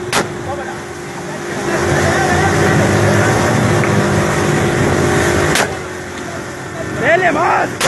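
A motor engine revs loudly, its roar building and holding for several seconds before dropping off, while excited people shout nearby.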